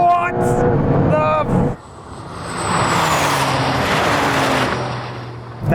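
A Porsche Turbo S and a Carrera GTS pull away in a drag race, engines rising to a loud, sustained roar over several seconds after a brief pause, with people talking over the start.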